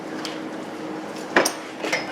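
A spoon scrapes and clinks against a pot while venison meat mash is stirred, giving a few sharp metallic knocks over a soft steady background, near and moderately quiet.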